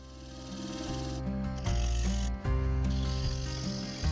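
A steady, loud mechanical drone of a wood lathe spinning an ash lidded bowl, with a skew chisel touching up detail and making slight shifts in tone, continuous and close.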